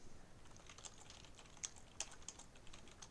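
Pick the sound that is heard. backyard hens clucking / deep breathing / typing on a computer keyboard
typing on a computer keyboard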